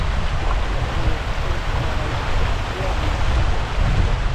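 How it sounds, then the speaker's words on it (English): Running water beside a bridge at a Highland loch, heard as a loud, continuous rushing roar with heavy low rumble, steady and close throughout. "My absolute favourite sound, running water."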